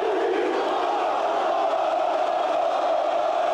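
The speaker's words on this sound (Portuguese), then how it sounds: "Só que ao invés de vaias, muitos aplausos." A stadium crowd greets the São Paulo team bus as it arrives, giving a continuous loud wash of applause and cheering from many fans, with no single voice standing out.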